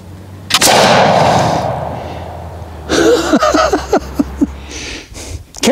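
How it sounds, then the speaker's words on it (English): A gun fires an undersized .310 round ball at a target, giving one loud sharp report that fades into a rumbling tail, followed by people talking. "That thing might sound like a little kid's cap toy gun or something."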